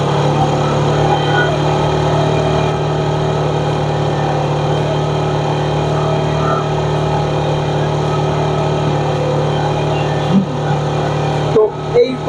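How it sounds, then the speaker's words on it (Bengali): A Metro Plus motorcycle engine idles steadily while its adjusting screw is turned, a loud close constant drone with a couple of brief knocks near the end. "তো এই পজিশনে গিয়ে আমাদের সাউন্ডটা সব থেকে বেশি আসতেছে আর কি ইঞ্জিনের।"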